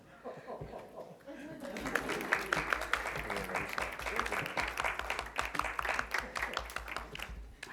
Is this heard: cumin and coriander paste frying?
no